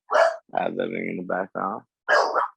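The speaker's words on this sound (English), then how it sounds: "Sorry, that's my dog" A pet dog barks and grunts indoors in short bursts at the start and end, with a person talking through the middle.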